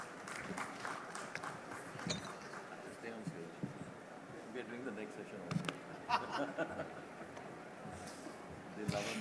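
Audience applause in a full hall after a panel discussion on dangerous goods regulation, a dense and steady patter of clapping running for several seconds with voices and scattered chatter mixed throughout.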